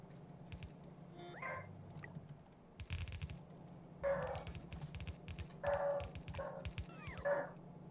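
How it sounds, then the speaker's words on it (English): A dog gives a series of faint, scattered short barks and yips with whimpering between them, heard at a distance against a low background hum. "What are you barking? Just barking."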